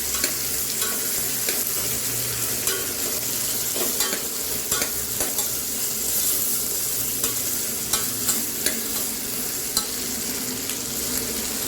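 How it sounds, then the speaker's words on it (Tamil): Ingredients sautéing in hot oil for a spicy Saidapet-style Tamil Nadu vada curry, with steady loud sizzling and frying broken up by repeated stirring scrapes of a spoon against the pan, heard alone throughout. "நல்லா வதக்கிக்கலாம்."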